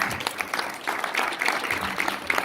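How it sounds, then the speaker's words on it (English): Brief burst of audience applause at a Ghanaian Pharmacists Association inauguration, scattered hands clapping at moderate volume and slightly distant, fairly even across the short stretch. "Another round of applause for the Provost."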